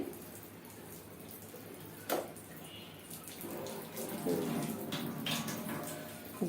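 Water drains and splashes out of a household water purifier opened up for cleaning and filter replacement, a steady run with a couple of sharper splashes.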